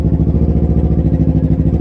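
A Kawasaki Z motorcycle with a full exhaust system idles loudly and close by, a deep, steady, rhythmic exhaust burble that keeps an even pulse throughout.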